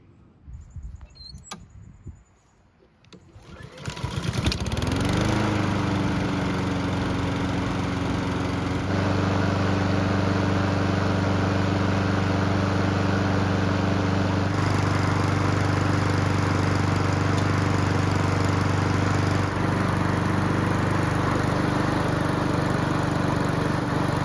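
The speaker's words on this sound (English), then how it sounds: "we'll try starting it" Honda lawn mower that is hard to start: a short pull-cord rattle, then the engine catches and runs steadily and loudly close by for the remaining twenty seconds.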